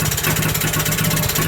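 A Villiers WX11 engine, freshly revived and smoky after running on stale diesel, runs loud and close with a steady rapid chugging throb and no voices over it.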